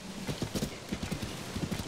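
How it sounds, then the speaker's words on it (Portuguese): Horse hooves clip-clopping in Zelda Tears of the Kingdom, a steady rhythmic trot of soft thuds at moderate volume with no talk over it. "Mas olha que cavalo lindo"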